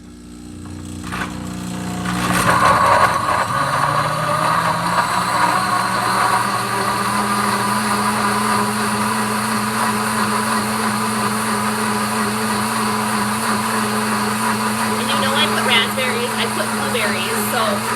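A countertop blender runs continuously on its smoothie setting. It starts with a sudden rise and then holds a loud, steady whirring roar for the rest of the run, with a person talking over it.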